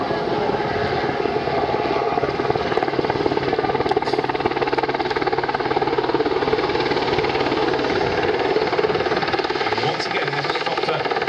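A Sea King helicopter hovers close by at an airshow, its loud, steady rotor and engine roar filling the whole stretch with no break.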